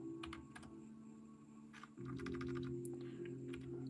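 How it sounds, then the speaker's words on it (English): Typing on a computer keyboard at a home desk, a quiet run of quick, irregular key clicks over a low electrical hum, with no talking. "Oh, I'm typing in video."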